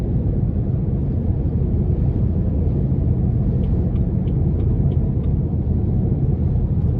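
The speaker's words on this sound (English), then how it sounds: "Just a tad bit of road noise, but nothing bothersome." Steady low rumble of road noise inside a 2017 BMW 330i with about 60,000 miles, cruising along; a continuous broadband hum fills the cabin at even loudness with a few faint ticks, no voices.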